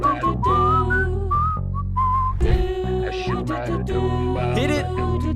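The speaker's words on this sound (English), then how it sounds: "Oh, dude, his whistle just sounds so good" The Sponge monster from the video game My Singing Monsters whistles a bright melodic tune over a full layered musical backing, loud and continuous throughout.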